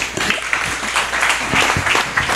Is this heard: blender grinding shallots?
no